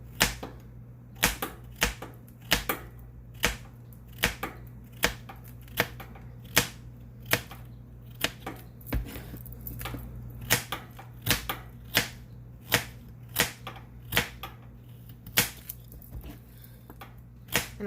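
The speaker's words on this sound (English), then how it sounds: "I might actually like run my knife through these a little bit more after I get these slices all cut up." A kitchen knife slices fresh carrots on a cutting board, giving a steady series of crisp, close chopping taps at a fairly even rhythm, one after another, with no talking.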